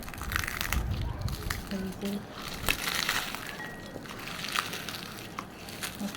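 Dried chillies being mashed by hand with oil and salt for a Chittagong-style chilli bhorta, giving steady wet crushing and crackling close up, with a voice talking over it.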